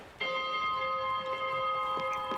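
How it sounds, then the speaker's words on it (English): A ship's bell on the deck of a boat in the game Spiritfarer gives a single clear ring with a long, steady sustained tone, fairly loud and alone. "Can ring the bell."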